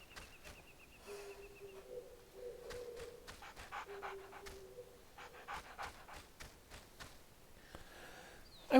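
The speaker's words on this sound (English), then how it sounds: "I wish the game would let you do something about that poor dog." A dog panting in the Onimusha 2 video game, quick rhythmic breathy pants repeating at moderate volume, with tonal game sounds and a few bird-like calls around it.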